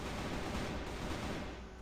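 Steyr PDP gunfire in the video game CrossFire pours out as a loud, unbroken rattle of rapid automatic shots, close and continuous, with no talk.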